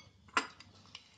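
A spoon clinks against a bowl while cold spiced water for golgappa pani is stirred, one sharp metallic tap followed by a few lighter clicks, close and otherwise quiet.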